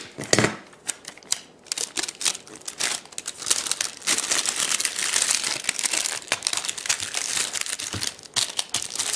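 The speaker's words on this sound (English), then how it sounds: "I just use this clear packing tape" Clear packing tape is pulled off the roll and pressed onto a metal detector screen protector and sun visor, giving close, crackly rips and crinkles in uneven bursts with no talking.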